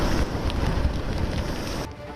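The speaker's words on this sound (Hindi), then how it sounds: "समंदर में उठ रही ऊंची ऊंची लहरें, तेज हवाएं और जोरदार बारिश।" Strong Cyclone Tauktae winds roar steadily across Mumbai, a dense, loud rushing that hits the microphone for the whole stretch and drops slightly just before the end.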